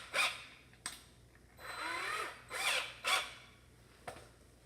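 A cordless drill with a low battery whirs in short, uneven bursts, several brief spins and one longer labored run, sounding weak between quiet pauses.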